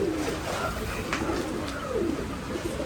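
Pigeons, including home-bred Kalpat and Teddy Golden birds kept for a Nashik pigeon festival, coo softly amid steady background noise, with brief overlapping calls.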